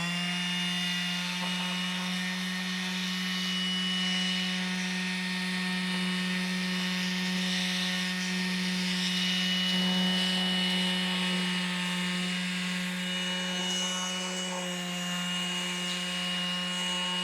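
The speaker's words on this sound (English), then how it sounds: "So far, the sander is fairly easy to control." A Skil PowerCore 12v cordless detail sander working a wood surface, a continuous close buzzing drone with a steady hum and faint scraping of the pad, loud and unbroken throughout.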